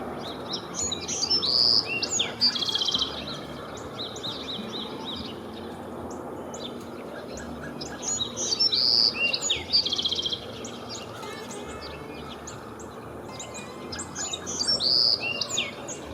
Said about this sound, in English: the Bewick's wren, which was perching on a tree branch, singing its heart out